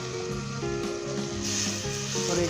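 Tomatoes and a green chili fry in a curry base for nargasi kofta, sizzling close by and growing brighter and louder partway through, over a faint steady tonal hum.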